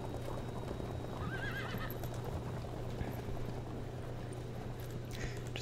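Horses in the video game Field of Glory II whinny and clip-clop over a steady low hum and dense battle ambience, with a high neigh rising briefly in the middle.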